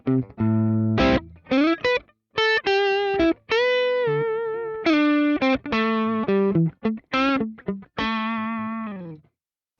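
Electric guitar played through a Tumnus Deluxe K-style transparent overdrive pedal rings out in clean-edged driven notes and chords, each attack sustaining then cut, with short gaps between phrases; loud and close, no voices.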